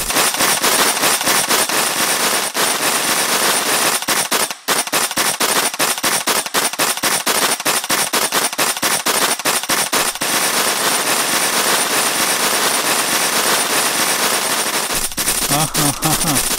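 A long burst of rapid, snappy pellet-gun shots in an animated cartoon rattles without letup, sharp repeated pops that end abruptly near the close.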